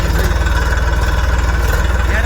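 A tractor engine runs close by at a market yard with a loud, steady, throbbing idle. The drone holds evenly throughout without a break.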